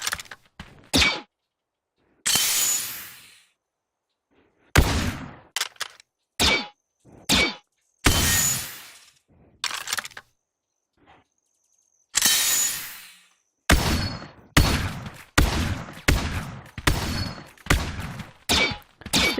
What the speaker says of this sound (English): it's a 4-shot shotgun